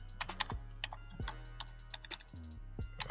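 Rapid typing on a computer keyboard, a fairly close and busy run of clicks over a steady low electrical hum, with no one speaking.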